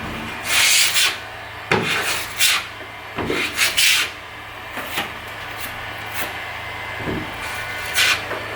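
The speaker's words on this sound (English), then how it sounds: "So I'm going to give it one last sand. Just a light sand will do it." Light hand sanding of a plaster patch on a drywall ceiling repair: short, scratchy rubbing strokes come in irregular bursts with brief pauses between them. They sound close and moderately loud, with no talking.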